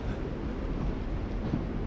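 Low, steady rumble of train ambience in The Walking Dead video game, a continuous dull drone with no distinct clatter or voices.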